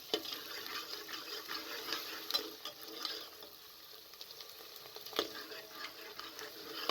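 Steady sizzling and crackling of garlic and ginger frying with softened onions in hot oil for daal mash, with occasional stirring scrapes, close and continuous.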